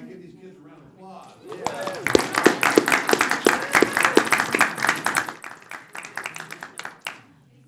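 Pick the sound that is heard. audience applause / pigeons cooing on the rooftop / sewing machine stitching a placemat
audience applause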